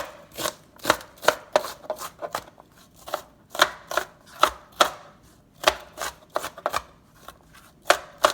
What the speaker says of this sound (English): I'm going to go ahead and chop up my onion really quickly.